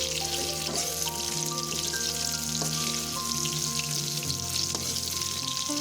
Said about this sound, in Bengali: এবার আমরা বাকি পটলগুলো ভাজা করে নেবো।